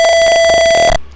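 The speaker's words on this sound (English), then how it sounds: "as soon as I take the temperature above 70 degrees Celsius, the buzzer starts beeping" A simulated piezo buzzer in a Tinkercad temperature-sensor circuit sounds one loud, steady electronic beep lasting about a second before cutting off abruptly.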